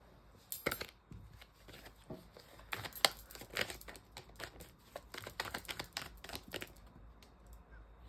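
Tarot cards are shuffled by hand in a rapid, irregular run of soft riffling clicks and slaps, close and quiet, continuing for several seconds without speech.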